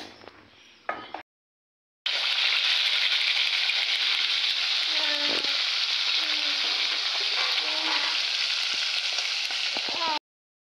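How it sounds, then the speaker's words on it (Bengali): Fish (brick fish) frying in a pan of oil, a steady loud sizzle after a short earlier burst, with occasional stirring clinks and pops; no talking. "মাছ ভাজা হয়ে গেছে।"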